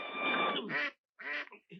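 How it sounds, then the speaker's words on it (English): A duck quacks in a western film scene: a few loud, close, nasal quacks in quick bursts separated by short pauses. "Have you seen my duck?"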